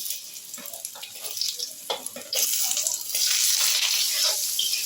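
Potatoes frying in hot oil with salt and turmeric, a steady sizzle that jumps louder midway and stays loud, with a few light clinks and stirring noises.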